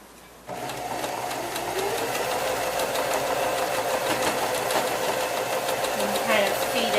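A sewing machine stitching a quilt block seam runs steadily and close up, a continuous humming whir with a rapid needle rhythm that starts abruptly and carries on without pause.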